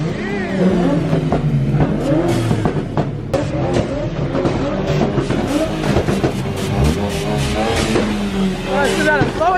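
Cars rev their engines hard in a 2-step rev battle at a crowded car meet, with loud repeated bursts and popping limiter stutters continuing throughout while excited people shout and talk over them.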